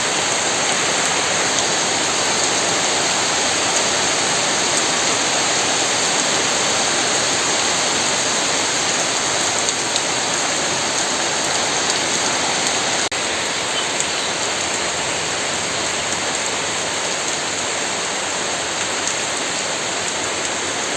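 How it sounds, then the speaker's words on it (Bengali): Heavy rain pouring steadily, a loud unbroken rushing hiss that stays constant throughout. "সকালে ছিল রৌদ্র আর এখন বৃষ্টি শুরু হয়ে গেছে"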